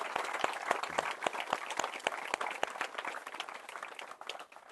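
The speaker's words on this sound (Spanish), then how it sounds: "lo primero a ellos recibimos ahora con un fuerte aplauso" A crowd at an outdoor beatification Mass on Cerro San José claps steadily, the dense patter of many hands going on without pause, loud and close, with no voices standing out.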